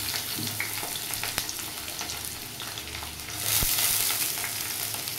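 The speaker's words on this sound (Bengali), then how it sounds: "এরপর আমি কেটে রাখা আলুগুলো দিয়ে দেব।" Cut potatoes dropped into a hot frying pan give a steady near sizzle with occasional stirring scrapes, rising into a louder hiss toward the end.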